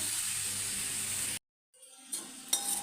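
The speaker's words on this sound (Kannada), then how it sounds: "ಕಟ್ ಮಾಡಿರೋಂಥ ಟೊಮೆಟೆನ ಹಾಕ್ಕೊಳ್ಳುವ ಎಲ್ಲವನ್ನು ಹಾಕಿ ಒಂದು ಎರಡು ಸ್ಪೂನ್ ಎಣ್ಣೆ ಹಾಕಿ ಹುರಿಬೇಕು ಅದನ್ನು" Tomatoes, garlic and chillies frying in oil in a kadai for tomato chutney, a close, steady sizzle that cuts off abruptly, followed by a brief silence and then softer sizzling with a couple of utensil clinks.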